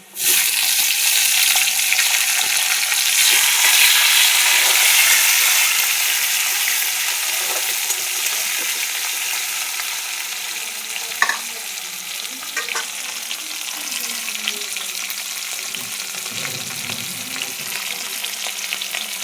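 Chopped tomato hits hot oil already frying with garlic, chili and five-spice, giving a loud hiss that settles into a steady sizzle with occasional stirring scrapes.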